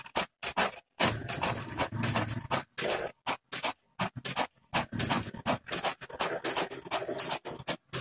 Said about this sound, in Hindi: प्रिंटिंग शुरू हो चुकी है आप आवाज़ सुन सकते हैं